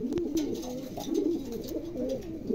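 A pair of large pigeons coo nearby in low, throaty, repeated warbling calls, steady and close, with faint background noise.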